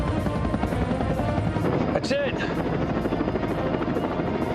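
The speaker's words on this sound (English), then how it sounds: "Searchlight from a helicopter." A helicopter flies overhead, its steady rotor chop and engine drone filling the scene as a searchlight sweeps below; a person speaks briefly over the noise.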